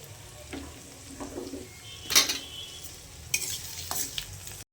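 Potatoes and onions with dried chilli fry in a pan, a quiet sizzle under a few sharp scrapes and clinks of a spatula stirring against the metal, heard without talk.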